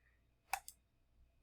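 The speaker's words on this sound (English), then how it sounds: "we are going to right click" Computer mouse right click, a single close, sharp click with a softer release click just after, in an otherwise quiet room.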